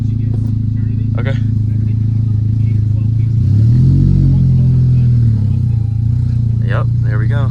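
A car with a swapped Honda K20C4 engine idles and pulls away on its first drive, a steady loud engine drone rising briefly, with people talking over it.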